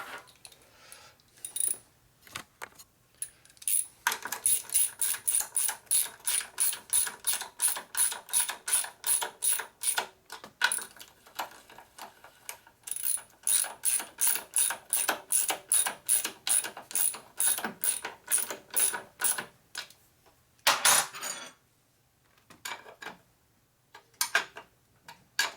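A ratchet clicks in rapid repeated bursts while tightening an oil line fitting on a Harley XL Sportster 650 single land speed racer, close and crisp, with short pauses between strokes.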